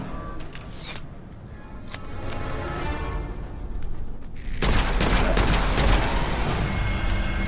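Gunfire crackles in the dark fantasy shooter Witchfire, a sustained loud barrage that thickens and grows heavier partway through, dense and continuous with game ambience underneath.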